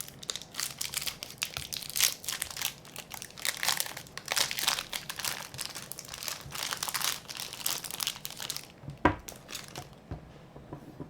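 Crinkly plastic wrappers of Snickers chocolate bars are handled and torn open, giving a steady run of close crumpling and crackling for several seconds before a brief sharp crunch and a quieter tail.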